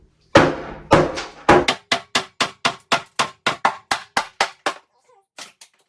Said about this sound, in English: My little handy hand sledge here, smaller version.